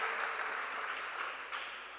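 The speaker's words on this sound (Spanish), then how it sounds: "Démosle un fuerte aplauso." Church congregation applauding at the close of a sermon, a steady, dense wash of clapping from many hands that carries on without a break for the whole stretch and stays fairly even in level.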